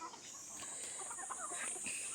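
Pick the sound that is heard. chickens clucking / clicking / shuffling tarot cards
chickens clucking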